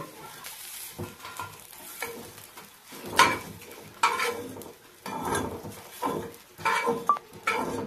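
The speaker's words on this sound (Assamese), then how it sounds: "পহিলা মাছখিনি ভাজোঁতে অলপ কম তেলত ভাজিব লাগে" Dried prawns fry in a little mustard oil in a pan, a soft sizzle broken by repeated scraping stirs of a spatula, each burst louder and close by.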